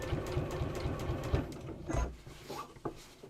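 A sewing machine runs a straight stitch, its needle chattering in a fast, steady rhythm close by, then slowing into a few separate thumps near the end.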